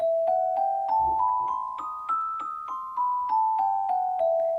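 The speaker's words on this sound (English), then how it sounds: "And this is the sound of a harmonic scale." A single melodic line of plucked notes playing a harmonic minor scale, rising and then falling step by step, evenly paced and clear, played alone without talking.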